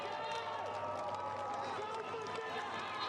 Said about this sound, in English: there's cheers behind us